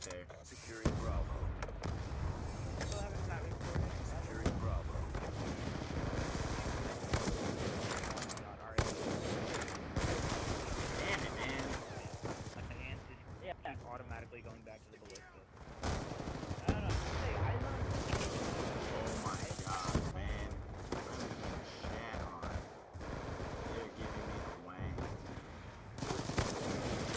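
Bursts of rapid gunfire in a multiplayer shooter video game, dense automatic volleys with short breaks, loud and close.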